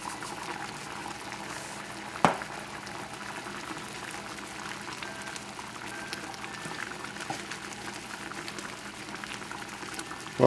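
Octopus and mushroom cream sauce reducing in a pan, a continuous close bubbling and popping at steady loudness, with a couple of sharp utensil knocks and no talking.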